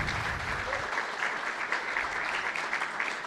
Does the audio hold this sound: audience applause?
yes